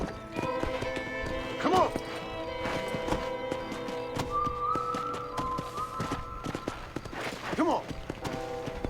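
Horse hooves clop along in the video game Red Dead Redemption, a quiet, uneven patter with two brief whinnies, under in-game character speech and other game sounds.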